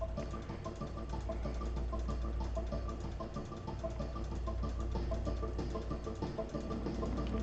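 A motorcycle mount's engine in the Final Fantasy XIV video game hums at a steady, low, even idle throughout, with a faint knocking texture and no talk.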